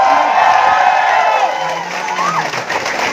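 A crowd at a gathering answers a call to clap, giving a dense, steady wash of cheering and whooping with raised voices mixed in, loud and continuous throughout.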